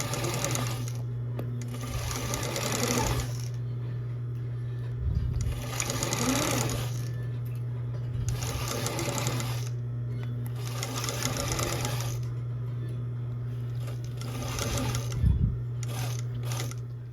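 Sewing machine stitching darts in slippery blouse fabric, running in repeated rapid bursts of steady whirring with short pauses between seams and a constant low hum underneath.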